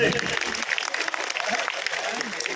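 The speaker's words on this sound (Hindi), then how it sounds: "ताली बजा दो एक बार जोर से।" Audience applause for an MLA on stage, a dense burst of clapping that fills the whole stretch at steady loudness with no voices over it.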